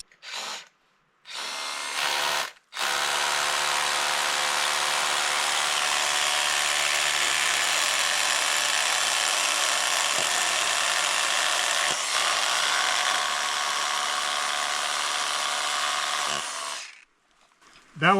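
Power drill boring into hard rock to set a climbing bolt hanger on a hike near an old gold mine, a loud steady grinding whine held for about fourteen seconds after a couple of short starts, with no talking.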